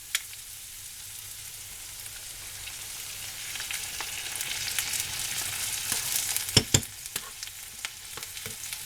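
Softened vegetables and sauce sizzle in a pan, a bright frying hiss that swells toward the middle, with a few sharp clinks and stirring knocks near the end.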